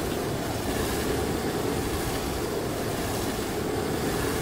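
Pyro's flamethrower firing continuously in Team Fortress 2, a steady loud roaring whoosh with no breaks and no talking.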